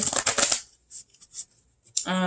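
A deck of tarot-style cards is shuffled close by in a quick run of crisp riffling flutters, then softer scattered taps, ending as a voice begins talking.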